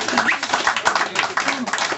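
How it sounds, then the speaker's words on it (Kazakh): Rhythmic clapping from a crowd of guests at a birthday celebration, steady and fairly loud throughout, with voices mixed in underneath. "Дуғол Шапалақта қошеметте отырайық"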